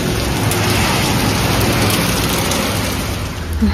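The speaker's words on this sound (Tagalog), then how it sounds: "Walang humpay ang ulan." Steady, heavy rainfall pours down without pause, a dense continuous hiss of drops hitting surfaces close by, with no voices.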